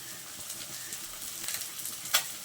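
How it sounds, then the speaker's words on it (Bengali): Chopped capsicum and tomato sizzle and fry in a pan after onions, a steady close hiss with light stirring scrapes and a brief sharp crackle near the end. "পেঁয়াজটা কিছুক্ষণ ভেজে নেওয়ার পর এখন আমি দিয়ে দিচ্ছি ক্যাপসিকাম কুচি আর টমেটো কুচি"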